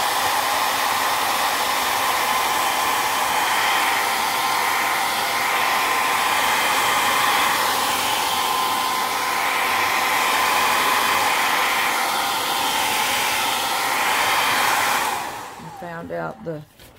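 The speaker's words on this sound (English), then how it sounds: "let me hit it with the dryer a second or two." A hair dryer blows steadily for about fifteen seconds, drying paint on a collage art journal page, loud and close, then switches off and winds down at the end.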